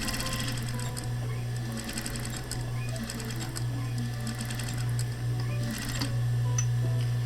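A sewing machine stitches layers of fabric for a face mask, a rapid, continuous mechanical chatter at close range that holds steady for several seconds with a slight rise near the end.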